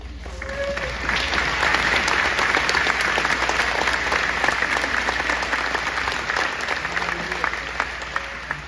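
Loud, continuous crowd applause at a campaign expo event, saluting firefighters, EMS and communications workers; many hands clap close and steady for the full stretch, with a faint hum running underneath.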